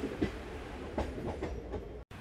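An Intercity Express train runs between Cheepurupalli and Visakhapatnam, its steady rumble broken by rhythmic clickety-clack wheel beats heard from on board, with no talking.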